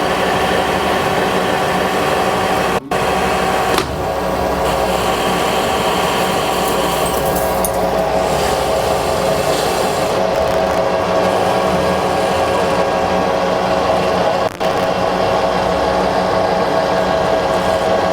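A Colchester metal lathe running steadily in a workshop, giving a constant mechanical hum and whine with a few faint clicks, loud and close, with no voices.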